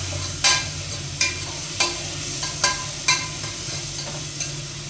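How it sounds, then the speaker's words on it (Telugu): Tomatoes, green chillies and coriander frying in a pan for mutton biryani, a steady sizzle broken by six sharp scraping stirs at regular intervals. "ఇవన్నీ వేసి ఇవి కూడా బాగా ఫ్రై అవ్వనిద్దాము."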